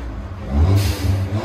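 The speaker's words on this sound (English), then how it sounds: "You can hear the blow-up valve. The blow-up valve is louder than the exhaust." Stock 2018 Ford Fiesta ST exhaust revving up close, the low engine note swelling loudly, followed by a sharp airy hiss of the turbo blow-off valve releasing mid-rev.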